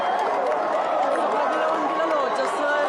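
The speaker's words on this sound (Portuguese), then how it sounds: "todo mundo comemorando aqui na Praça de São Pedro" Large crowd celebrating in St. Peter's Square after the papal election, a dense, steady roar of voices and cheering filling the open square, loud and unbroken.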